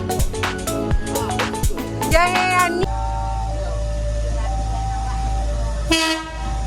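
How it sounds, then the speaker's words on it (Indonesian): A KA Minangkabau Express passenger train passes near Pulau Aya station in West Sumatra, its horn sounding in long tonal blasts before a steady low rumble of the train rolling by, with a brief squeal or horn near the end. "setiap harinya dilewati oleh kereta KA Minangkabau Express yang rutenya Pulau Aya ke Bandara"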